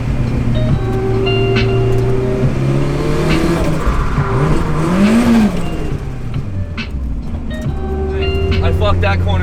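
A Nissan S13 drifting through a corner on a late-night run, its engine revving and rising in pitch through the slide before easing off, loud and close from inside the car, with voices talking over it.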